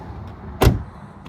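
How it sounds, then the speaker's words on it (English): A single solid thud of a 2001 Toyota Camry door shutting, short and close, with a faint click just after and quiet background otherwise. "We'll go ahead and shut the door."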